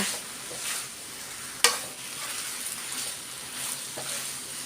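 Pad see ew noodles stir-fry in a hot pan with a soft, steady sizzle, one sharp clank of a utensil against the pan, and faint scraping stirs at a moderate distance.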